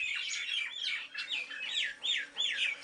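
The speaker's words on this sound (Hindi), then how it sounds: "इधर हमारे ये दालचीनी के पेड़ में बहुत सारी मैना रहती है" Myna birds call from a cinnamon tree in a Uttarakhand mountain village, a series of close, clear whistling and chattering notes in quick repeated phrases.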